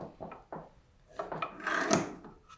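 A clamp being fitted and tightened against a wooden jig in front of a router in a woodworking shop, heard as a few close, light knocks and clicks followed by rubbing, scraping handling noise.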